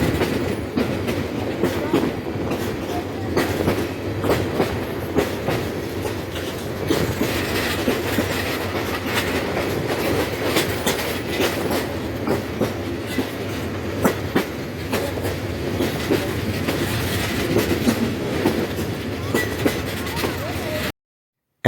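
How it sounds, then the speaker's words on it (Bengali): Kishoreganj Express on the Dhaka–Kishoreganj run, arriving at Kuliarchar station: loud, continuous rail rumble from inside the train with rhythmic clickety-clack of wheels and occasional wheel squeal, a voice talking over it. "এই মুহূর্তে আমাদের ট্রেন পৌঁছে গেল তার পঞ্চম স্টপেজ কুলিয়ারচর স্টেশনে"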